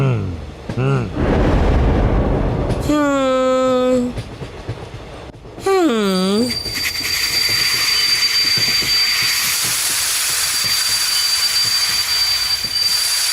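A cartoon train rumbles and rattles steadily with a bright whine over it, after two short bursts of high wailing tones near the start, and voices briefly heard.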